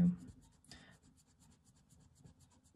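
Colouring pencil drawn across smooth-stock paper in a colouring book, soft close scratchy strokes repeating in quick rhythm, with a firmer rubbing stroke midway, faint and intimate, without talk.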